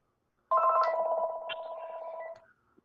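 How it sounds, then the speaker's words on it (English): A phone rings once in a meeting room, a single electronic ringtone burst lasting about two seconds, clear and fairly close against near-silence. "I can't turn that phone off,"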